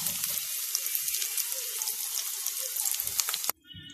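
Tomatoes dropped into a hot pan, a loud, steady hiss of sizzling close by that cuts off abruptly near the end.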